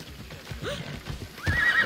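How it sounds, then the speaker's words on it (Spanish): Horse neighing in Assassin's Creed Odyssey, a short rising whinny with soft clip-clop hooves underneath, fairly quiet and close, with no talk over it. "Caballo."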